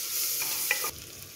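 Ginger and garlic sautéing in a pan for creamy tomato soup while being stirred, a brief close sizzle with a small scrape that drops to a quieter hiss midway.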